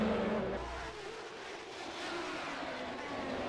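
A race car in a racing video game braking and slowing into turn 7, its engine tone dropping and then holding at a moderate, steady level.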